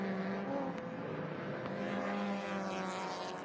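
Datsun 240Z and Datsun 2000 race cars dueling on track at Sydney Motorsport Park during Sydney Masterblast 2023, a steady, dense engine drone at moderate distance with no pauses.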